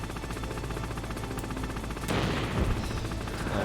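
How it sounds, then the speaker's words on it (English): Sustained rapid gunfire in Metal Gear Solid: Integral, a dense continuous rattle of shots over a constant game background, growing heavier partway through, loud and close with no talk. "Maybe I'll just stand here and just keep shooting him."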